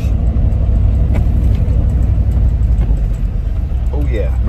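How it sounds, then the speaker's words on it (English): An old 3/4 ton Ford pickup, roughly mid-1990s and with barely working brakes, runs with a steady low engine rumble close by, continuous throughout with faint clatter and a brief voice near the end. "It's a 3/4 ton old Ford pickup."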